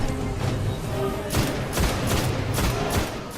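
Gunfire from the Vision of Confluence weapon in the video game Destiny, rapid bursts of shots in a regular rhythm over a dense game soundscape, loud and close.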